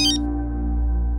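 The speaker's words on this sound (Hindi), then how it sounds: "पापा 1 मिनट, जीजू का फोन है" A mobile phone ringtone plays in a domestic drama scene, a short, loud melodic chime opening and returning at the end over a sustained tonal drone.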